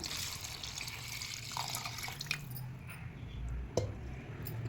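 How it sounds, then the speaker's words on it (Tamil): Water poured into a pan of mutton curry cooking with coriander powder and coriander leaves, a soft, steady splash and trickle with squishy bubbling, close and fairly quiet. "கறி நல்லா வெந்து வர அளவுக்கு தண்ணீர் ஊற்றிக்கோங்க"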